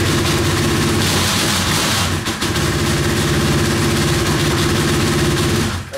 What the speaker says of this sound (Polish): Silnik chodzi elegancko